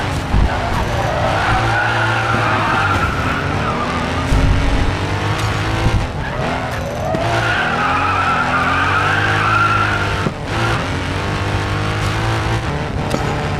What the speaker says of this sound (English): Let's try these roads with our classic car.